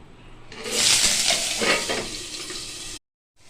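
Cauliflower frying in white oil with black cumin gives a loud, bright sizzle that rises sharply, crackles steadily for a couple of seconds, then cuts off abruptly.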